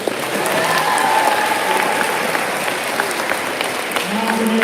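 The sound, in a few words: audience applause at school awards ceremony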